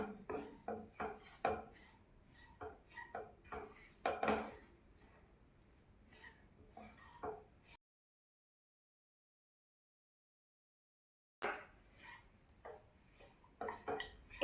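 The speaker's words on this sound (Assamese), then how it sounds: "এতিয়া এইখিনি আকৌ এবাৰ ভালদৰে মিক্স কৰি ল'ম।" A spoon scrapes and knocks repeatedly against a bowl while suji ladoo mixture with nuts and raisins is stirred. The scraping comes close and uneven, stops for several seconds of silence, then starts again.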